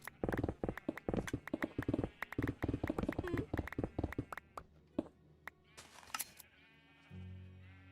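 Bleating sheep in the Minecraft video game, several short calls mixed with rapid clip-clop-like steps and clicks from play, with some talk in the background; loud in the first half, then quieter.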